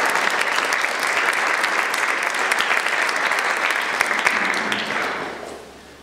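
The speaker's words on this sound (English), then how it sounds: "So let's give him a warm round of applause." An audience at a panel discussion on the Occupy movement claps warmly, a steady round of applause from the crowd that holds for several seconds, then thins and fades out.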